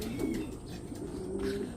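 Racing pigeons coo at a loft during a club training race in Tanay, Rizal: low, throaty, repeated coos close by, overlapping in a steady murmur with no one speaking.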